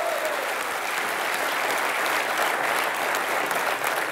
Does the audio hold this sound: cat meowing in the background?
no